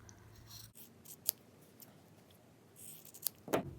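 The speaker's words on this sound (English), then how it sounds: "Now I'll take my scissors and cut the back" Quiet close-up snips of scissors cutting fabric, a few sharp crisp cuts spaced apart against a soft background hiss.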